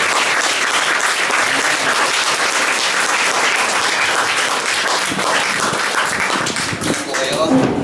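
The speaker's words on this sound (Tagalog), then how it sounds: "bigyan ko natin na sa palakpak sa Panginoon" A church congregation gives a dense, sustained round of applause for the Lord, close and loud, filling the whole stretch without a break.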